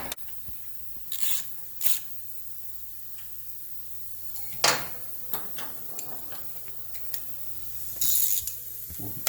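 Bolts being snugged up on Ilium Works engine protection guard bars for a BMW R1250RT motorcycle: scattered light metallic ticks and ratcheting clicks with a few short louder bursts, close by, no talking.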